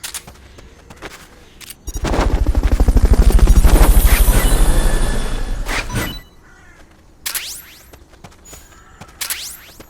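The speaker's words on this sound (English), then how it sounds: "Fulton recovery subject confirmed onboard helicopter." A Fulton recovery helicopter in Metal Gear Solid Peace Walker, a loud pulsing rotor chop that swells in and fades over about four seconds, followed by sharp whooshing and clattering game effects.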